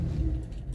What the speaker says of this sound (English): Yes, the car is start.